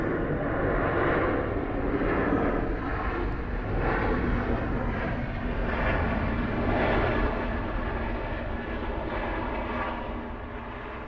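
Delta airliners departing Atlanta airport make a continuous, distant jet roar that swells and fades gently throughout, a broad steady rumble with no talk.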